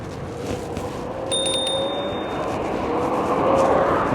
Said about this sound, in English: Going to get the first use of